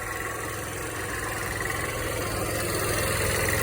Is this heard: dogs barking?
no